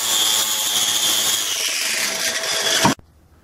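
Power tool stripping metal on a fire pit, a loud, steady high-pitched grinding whine with abrasive scraping that runs for about three seconds and then cuts off abruptly.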